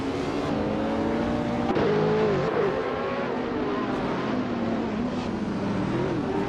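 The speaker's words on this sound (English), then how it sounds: "Botjar Let's Go is currently leading the race from pole position in a 2014 Porsche 918 Spider" A 2014 Porsche 918 Spider races in a video game, its engine droning steadily with shifting pitch as it holds the lead, a continuous high-revving whine under game ambience.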